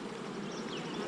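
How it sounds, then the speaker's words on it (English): Honey bees hum in a dense, continuous buzz around an open hive, close and steady throughout with no pause and no talking. "Look at that. More hatch bees."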